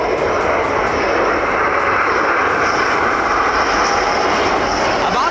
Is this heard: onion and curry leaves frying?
no